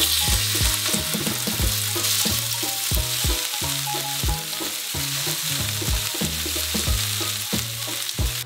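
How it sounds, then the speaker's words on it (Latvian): Meat fries in a hot pan, a dense, continuous sizzle punctuated by regular scraping and stirring knocks, close and clear with no voices. "Panna ir sakarsusi un mēs sākam cept."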